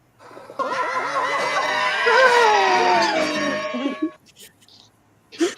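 A person lets out a long, loud, strained scream of about three and a half seconds with wavering pitch that rises and falls, then cuts off into quieter breaths and a short final burst.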